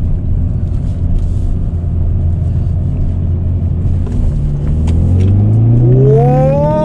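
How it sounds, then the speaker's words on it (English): A 2019 Hyundai Veloster N engine holds a steady, loud drone and then blips sharply upward in revs during a rev-matched downshift into second gear near the end. "drop it down in second, get a little rev match action"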